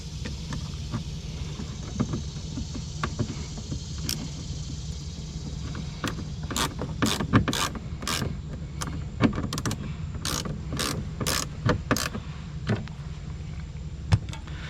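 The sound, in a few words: Dodge Ram door handle lever mechanism clicking inside door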